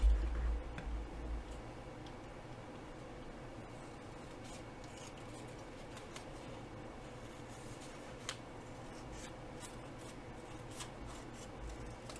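Scissors trimming a small extra piece of paper on a craft belly band, a series of soft close snips and light paper rustles repeating steadily over a quiet background, with no talking.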